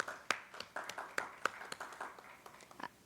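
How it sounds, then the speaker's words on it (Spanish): A small, faint round of clapping in a provincial education meeting, scattered distinct hand claps at irregular intervals rather than a full ovation, sounding somewhat distant and sparse. "Aplaudimos a Corrientes."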